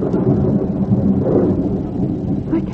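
Low rumbling thunder rolls continuously through a spooky supernatural scene, loud and sustained with a broad, heavy low-end roar and no voices over it.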